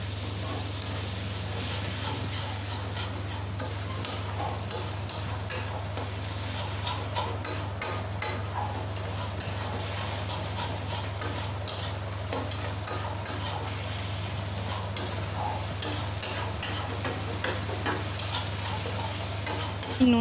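Spices are stirred and mixed in a frying pan while cooking curd catla fish, a steady close sizzle with rhythmic ticking scrapes of the spoon against the pan throughout.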